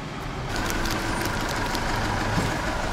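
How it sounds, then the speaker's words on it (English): A bus idles at a stop in Ukraine before heading to Ternopil, a steady low engine rumble close by with a continuous hum and no speech. "Our bus is here to Ternopil."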